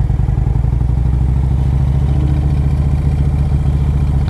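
A 2007 Harley-Davidson Road Glide with a 113 cubic inch Screaming Eagle engine rumbles loudly and continuously up close, its pulsing, throbbing exhaust note steady throughout.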